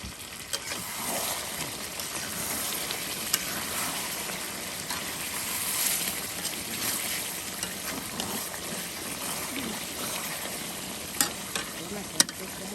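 Beef frying in a pot, a continuous close sizzle and bubbling with intermittent stirring scrapes and a few sharp knocks of the spoon toward the end; no speech.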